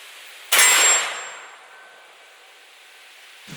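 A 12 gauge Bolo shotgun shell strikes a steel torso plate with a single loud, ringing clang that decays slowly over a few seconds, ending with a faint thump.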